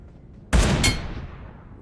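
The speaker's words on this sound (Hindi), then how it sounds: "इन भाई साहब को एक हेड शॉट दिया भाई" In a video game, a sniper rifle fires a single sharp shot that lands as a headshot, with a second crack close behind and a decaying tail, loud and clear against a quiet background.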